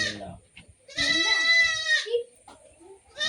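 Goats in a farm shed give a long, loud bleat followed by softer calls, with people talking nearby in between.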